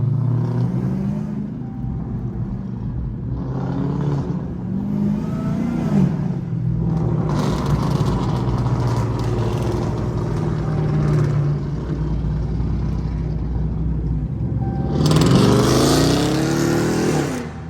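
A loud Dodge Hellcat engine revs hard and repeatedly, rising and falling in pitch with a deep rumble, ending in a sharp high-pitched surge.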